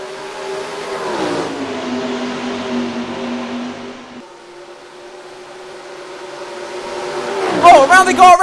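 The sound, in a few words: race cars at green flag start, NASCAR Racing 2003 video game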